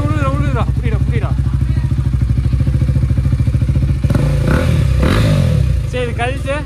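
Superbike engine running loud and close with its newly installed exhaust, a steady throbbing idle that swells into a revving burst near the end, with voices talking over it.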